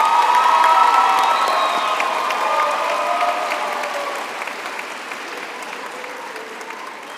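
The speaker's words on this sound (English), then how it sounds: "I would now like to ask our graduates to applaud their families, friends, partners, and spouses for the support over the years." Graduates at a University of Pretoria Faculty of Law graduation ceremony applaud their families, a large crowd's dense, sustained clapping with scattered cheers and whoops that gradually fades.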